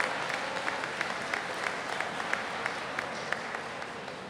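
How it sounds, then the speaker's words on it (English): A distant, fairly faint round of applause from students at a school convocation, steady clapping filling a large hall with a few sharper claps standing out. "let's give yourselves a round of applause for that"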